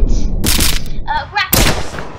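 Gunfire in the Henry Stickmin video game, a quick series of sharp cartoonish shots and bursts mixed with game effects, loud and close over a few seconds.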